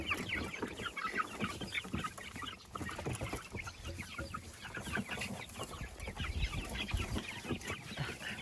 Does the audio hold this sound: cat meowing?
no